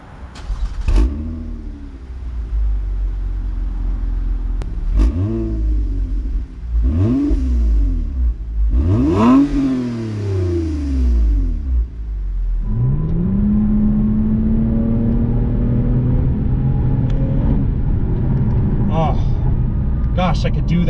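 A 2020 Toyota Camry TRD with a 3.5-liter V6 revs up hard several times in short bursts, each climb and fall of the exhaust note distinct, then settles into a long sustained high-rpm drone toward its redline, loud and close.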